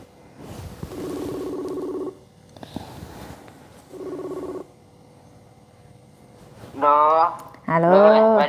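A phone call is dialed: bursts of steady ringback tone repeat with pauses between them, followed by two short melodic chimes or a ringtone phrase at the end. A person speaks briefly in between.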